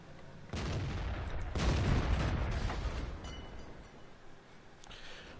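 A tank gun firing in World of Tanks, from an M10 Wolverine tank destroyer: a heavy booming blast followed by a second louder report that rolls off into a long rumbling decay, with no talk.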